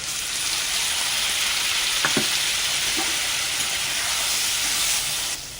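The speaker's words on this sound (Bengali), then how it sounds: "মশলাটা ভালো করে কষিয়ে নিচ্ছি।" Ground spice paste of ginger, cumin and green chilli with turmeric, salt and chilli powder sizzling steadily in hot oil in a pan for a rohu fish curry, a continuous close frying hiss with a few faint spoon clinks.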